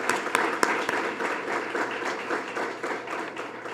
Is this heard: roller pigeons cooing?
no